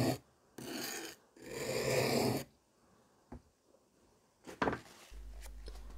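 A steel chisel is pushed across a sharpening stone in three rasping strokes near the start, followed by softer scrapes and light handling knocks.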